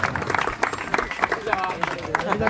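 Audience clapping to celebrate a birthday at a night underarm cricket tournament, irregular bursts of hand claps mixed with crowd chatter and voices close by.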